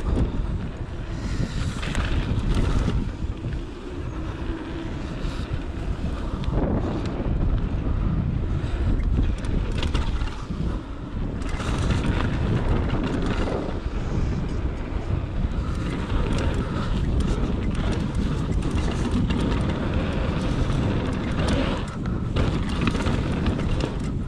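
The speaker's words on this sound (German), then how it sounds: "Das bläst mir der Wind auch noch entgegen." Strong headwind roars across the microphone of a mountain bike rider coasting without a chain at Bikepark Winterberg, a loud continuous rushing buffet with gusty surges and no talking.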